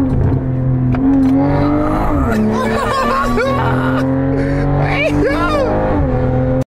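A BMW M340i driven hard, its engine note rising and falling through downshifts and hard acceleration, loud and close inside the car, with people talking excitedly over the engine throughout.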